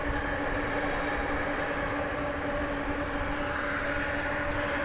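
Jet aircraft at DFW Airport on a flight bound for Louisville, a steady broad engine roar with a droning hum that holds evenly throughout, heard from a distance.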